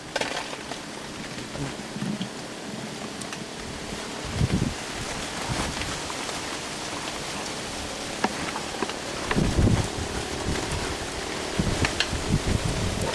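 Outdoors in a forest, wind rustles and shakes tree branches in a steady hiss with a few louder gusts and thumps, with no voices.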